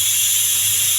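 A kitchen mixer grinder whirs steadily as it grinds fresh coconut, cumin and tomato into a paste, giving a continuous, close, loud motor hiss with a low hum beneath and no voices.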